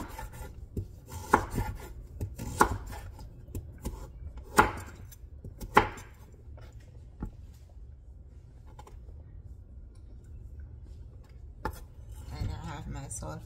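A knife chops through pumpkin on a board while cooking green papaya with pumpkin, with sharp irregular thunks close by, spaced apart and then thinning out, over a quiet kitchen background with some rubbing and handling noises.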